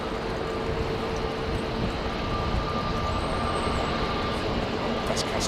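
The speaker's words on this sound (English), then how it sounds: "That's China Southern taxiing" A China Southern airliner taxiing across runway 27 left at Heathrow Airport at night, a steady broadband engine roar with a faint whine, heard from a distance and continuous throughout.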